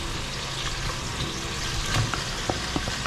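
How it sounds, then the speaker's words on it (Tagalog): Fish sautés with tomato, onion, ginger and garlic in a pan, giving a close, steady sizzle with light stirring clicks and a few sharper pops. "Iginisa ko lang sa kamatis, sibuyas, luya, bawang, tapos nilagyan ko ng patis."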